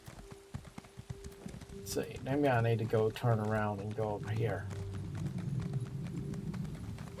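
Horse hooves clop in a steady trotting rhythm in Elder Scrolls Online, soft and continuous beneath someone talking throughout.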